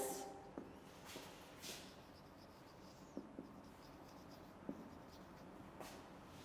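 Pen or chalk writing out a definition during a ninth-class chemistry lecture on metallic bonds, faint scratchy strokes with occasional light taps, close and quiet with no talking.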